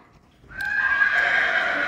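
A horse whinnies loudly and close by, one sustained neigh running through most of the moment, from a mare with her young colt on a farm.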